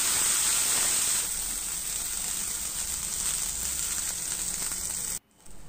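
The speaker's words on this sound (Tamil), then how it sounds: "ஒரு 15 சின்ன வெங்காயத்தை கட் பண்ணி சேர்த்து அதையும் வதக்கி விட்டுக்கலாம்." About fifteen cut small onions (shallots) sauté in a pan for mushroom curry. A soft, steady sizzle and hiss continues evenly, then briefly drops out just before the end, with no talking.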